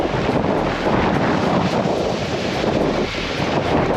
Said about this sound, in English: Where's this wind coming from?